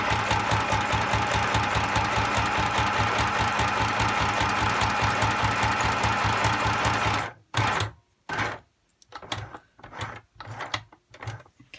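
A sewing machine stitches a junk journal book cover with a fast, loud, even mechanical chatter that runs for about seven seconds, then stops and gives way to a few short bursts and clicks.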